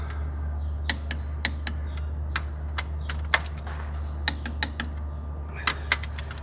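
Forklift engine cylinder head bolts torqued down in a cross pattern, heard as sparse, sharp metallic clicks and ratchet ticks at irregular intervals over a steady low machine hum.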